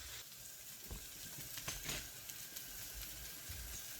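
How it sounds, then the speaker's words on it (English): Green beans sizzling and frying in a pan, a steady low crackle and hiss with a few brighter pops, close and fairly quiet, with no voices. "The beans are still cooking."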